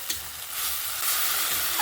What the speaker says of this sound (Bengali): অনেকক্ষণ ধরে নাড়াচাড়া করেছি।